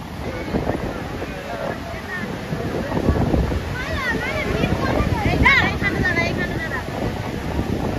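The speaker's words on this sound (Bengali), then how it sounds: "ঢেউ, রে বাপরে বাপ।" Choppy sea waves around a boat at dawn, heard as gusty wind buffeting and rushing water, with excited voices talking over it throughout.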